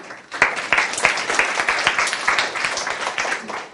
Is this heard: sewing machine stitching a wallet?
no